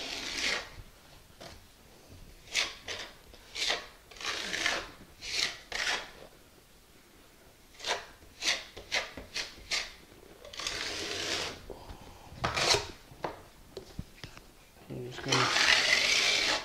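A trowel scrapes mortar over seam tape on a floor in a series of short, rasping strokes with brief pauses between them, close and fairly quiet.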